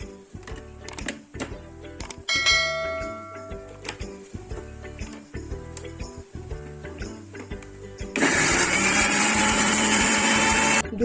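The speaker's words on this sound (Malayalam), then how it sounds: "രണ്ട് തക്കാളി അരച്ചെടുക്കാം." A mixer grinder blending two tomatoes starts abruptly near the end and runs as a loud, steady whir. Before it, rhythmic ticking and clicking sounds play and no voice is heard.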